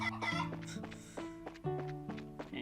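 Chicken clucking in the video game Trails in the Sky FC, a series of short, close, choppy clucks in an irregular rhythm, fairly quiet and heard alone.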